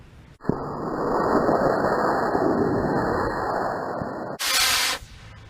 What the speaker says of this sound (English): This rocket, that engine. 5, 4, 3, 2, 1, ignition.